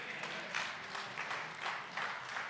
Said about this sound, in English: You are not applauding me. You are applauding him who wrote the word.